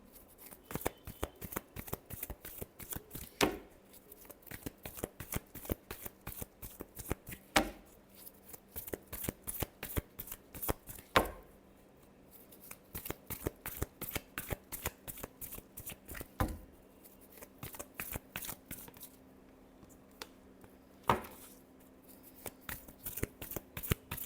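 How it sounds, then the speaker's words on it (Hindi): Tarot cards are shuffled repeatedly, close and soft, with rapid riffling flutters broken by sharper slaps every few seconds as the deck is squared, continuing steadily with no talking. "last shuffle"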